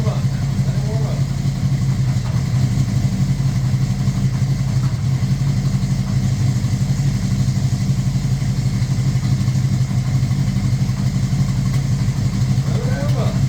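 A 1981 Honda CB650 motorcycle engine with freshly rebuilt Keihin VB carburetors idles steadily on full choke while warming up, a close, continuous mid-pitched rumble with a faint clatter throughout.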